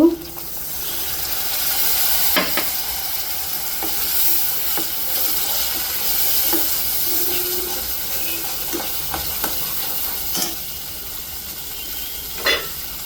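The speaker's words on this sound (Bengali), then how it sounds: "একটু পানি দিব।" Chicken cooking in a hot pan sizzles steadily after water is added, with scattered sharp spatula knocks and scrapes spread through the clip and no talk.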